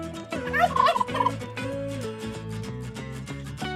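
A turkey gobbles in a quick warbling burst near the start, set over a steady musical background that continues after the call fades.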